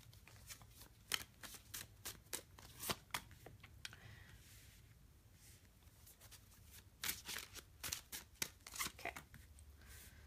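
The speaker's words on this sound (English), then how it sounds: "I'm using oracle cards for the base of this reading." Oracle cards are shuffled by hand in repeated riffling bursts, soft crisp flutters close by with short pauses between them, no talking.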